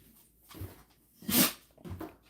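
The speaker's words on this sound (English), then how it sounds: "bless you, Luna" A dog sneezes once in a quick, sharp burst near the middle, with softer snuffling sounds just before and after in a quiet indoor room.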